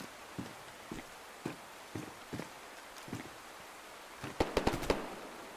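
Gunfire in the DayZ video game on the Livonia map, distant sharp cracks spaced irregularly at first, then a quicker cluster of louder shots near the end, with no speech over them.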